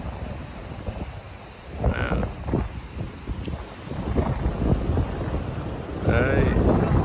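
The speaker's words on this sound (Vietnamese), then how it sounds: "Nghe tiếng gió biển chưa?" Sea wind gusting at Manly beach in Sydney, a steady broadband rush with surf-like swells that rise toward the end, close and fairly loud, with people talking intermittently over it.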